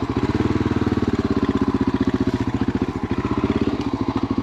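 A dirt bike with a heavy flywheel chugging up a steep ravine trail, a loud, steady, low-revving single-cylinder thump with rapid even pulses, close up.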